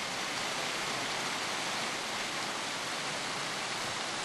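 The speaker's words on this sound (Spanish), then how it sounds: "Esto ha sido una auténtica tromba de agua" Torrential rain pours down over Santa Cruz de Tenerife during a February storm, a dense, unbroken roar of water with no pauses.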